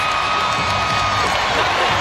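A basketball arena crowd erupts after a Caitlin Clark step-back three, a loud, sustained roar of cheering, whoops and clapping that holds steady across the whole moment.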